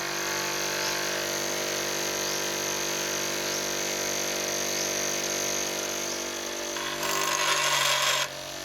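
A small bench grinder sharpening a drill bit whirs steadily with a high whine, then a harsher rasping burst near the end as the metal bit is pressed against the wheel.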